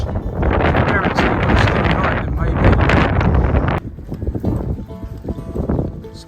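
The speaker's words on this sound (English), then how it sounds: "the wind's just too strong" Strong wind blows across an exposed coastal cliff top, a loud roaring buffet against the microphone that drops to a quieter gusting after a few seconds.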